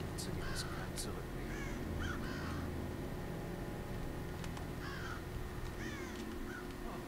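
Crow in the game Thief cawing in a few short repeated bursts over a low steady background hum, moderately near, with a voice talking at the same time.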